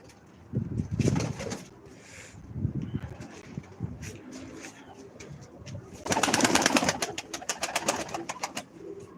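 Several hanım kuşu pigeons coo nearby in repeated throaty rolling phrases, joined by wing flutters and a loud burst of flapping partway through.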